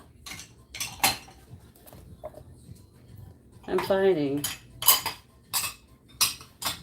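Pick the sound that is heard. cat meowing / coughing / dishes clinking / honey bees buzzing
dishes clinking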